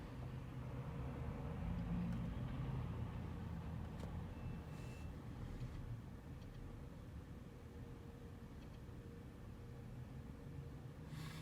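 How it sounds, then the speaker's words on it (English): A 2013 BMW X5 engine idles after starting, a low, steady rumble that stays faint and constant throughout with no voices. "Okay, I did start the vehicle."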